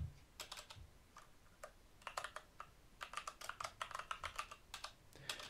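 Soft, quiet typing on a computer keyboard while entering text into a Python program, with irregular clusters of key clicks speeding into a steady patter toward the end.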